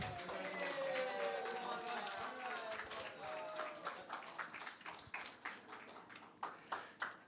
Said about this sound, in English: a round of applause for your second-place team here, Kalakaua Middle School